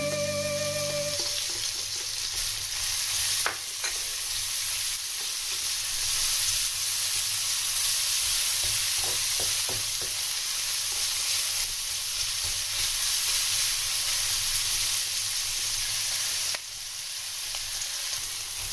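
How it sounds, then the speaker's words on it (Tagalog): Ginger and garlic sizzle and crackle steadily in a hot pan, close up and continuous, with occasional clicks and scraping of a utensil. "Ayan lang po natin mag-brown ng konti yung ating ginger at ang ating garlic."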